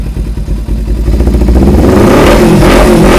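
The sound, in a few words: Kawasaki Ninja 250 motorcycle engine and exhaust revving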